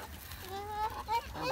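Pigeons being fed gather and call close by, with brief bird vocalizations rising over a busy outdoor background; no clear speech.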